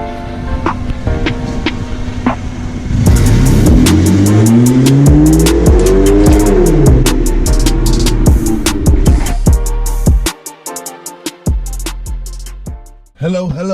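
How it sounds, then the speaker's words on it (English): A BMW 1 Series engine cranks and catches around the three-second mark, then settles into a loud, steady idle. Its rising and falling tones carry on for several seconds before the engine cuts off, leaving a few sharp clicks and thuds. "And now let us start the car and see if it works."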